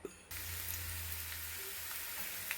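Mustard seeds, onion, dried chilli and curry leaves sizzle in hot oil in a clay pot for a curry tempering, a steady close crackling hiss that starts abruptly and continues alone.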